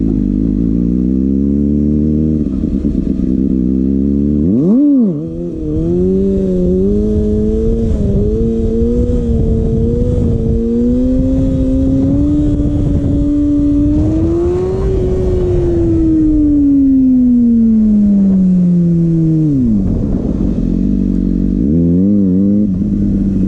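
A Kawasaki ZX6R sport motorcycle engine under a riding rider, loud and close, pulling up through the revs in a long rising whine, briefly dipping and shifting, then dropping away as the throttle closes, with constant wind rumble.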